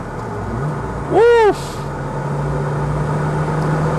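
A Renault Clio RS drives fast along an open country road, its engine holding a steady, loud drone while a voice whoops briefly over it.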